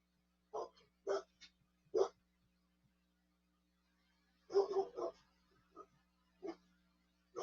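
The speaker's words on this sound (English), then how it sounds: "Look, it'll bark and there you hear it whine now." A dog in a basement next door barks in short separate bursts and whines, with a faint steady hum underneath; the sounds come through at a distance and there are long quiet gaps between them.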